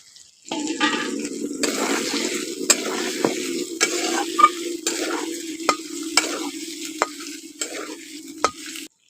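Potatoes frying with ginger in hot oil for aloo dum, a loud continuous sizzle close by, broken by repeated sharp scrapes and knocks of a spatula stirring the pan.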